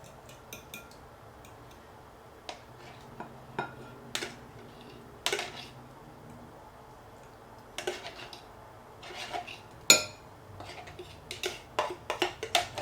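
A spoon scrapes and taps against a bowl while rice is folded into a baked rice pudding mixture, sparse clinks and soft scrapes at irregular intervals, growing busier toward the end over a quiet kitchen background.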